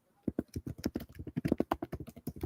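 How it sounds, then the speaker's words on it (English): Someone types hard and fast on a computer keyboard nearby, a rapid, uneven stream of sharp, loud keystrokes with no other sound behind them. "you really hammer those keys"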